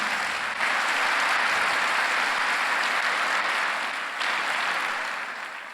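A church congregation at a Sunday service applauds, a thick continuous patter of clapping that swells at the start, holds, then dips and tapers off toward the end.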